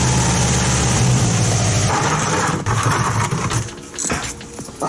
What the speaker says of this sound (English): Firstly, I'm going to get some heat into the engine, which will make the process a bit quicker.